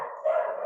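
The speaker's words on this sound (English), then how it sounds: "Someone must be at the door, if you can hear that barking." A single dog barks and howls in a drawn-out, fairly close call, heard alone in the moment before people start talking.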